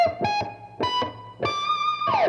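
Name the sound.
electric guitar playing a diminished 7th arpeggio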